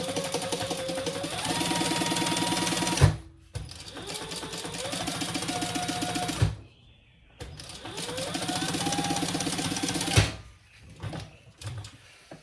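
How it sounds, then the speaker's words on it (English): A sewing machine stitches a 1/8-inch basting seam along the top raw edge of a fabric tote, running in three steady bursts of rapid mechanical whirring, each ending with a click and brief pause. "now we're going to baste this top raw edge just an 1/8 of an inch."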